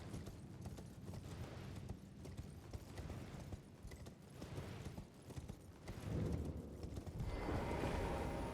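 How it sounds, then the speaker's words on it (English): Steady clip-clop of horse hooves while riding in Elden Ring, a continuous quiet rhythmic patter with game ambience swelling near the end. "Boy, oh boy, I love riding on my horse."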